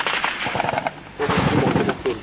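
Dense bursts of gunfire from a police special forces raid in Chay Kend, rapid and rattling in two loud clusters, with voices shouting underneath.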